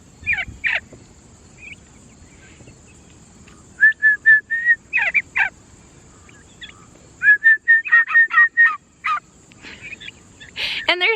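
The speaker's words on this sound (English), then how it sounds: "we'll see if any little turkeys come up behind me while I'm talking" Two bursts of rapid, rattling turkey gobbles with whistly peeping calls in between, close by and fairly loud against a quiet homestead background in the Blue Ridge Mountains.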